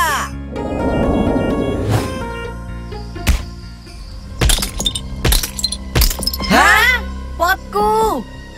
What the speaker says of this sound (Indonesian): Aku nggak sengaja pecahin pot kamu.